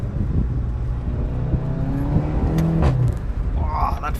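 A VW Golf GTI TCR (213 kW, 290 PS, DSG) pulls hard under acceleration, its intake and free-flow exhaust droning with rising engine tones. A voice talks briefly over the steady, loud engine.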